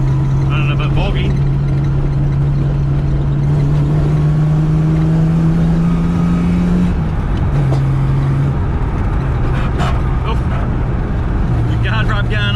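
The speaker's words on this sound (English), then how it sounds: "Bit of a whine going on from the diff." Loud, rough-running car with no interior or sound deadening drives continuously, a steady tonal whine from the differential rising slightly in pitch over the engine and road noise, with voices talking over it.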